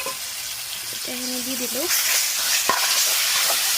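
Mashed potatoes and ou-tenga (elephant apple) frying over low gas for a curry, a steady hiss of sizzling oil with a spoon stirring. A brief voice speaks early on.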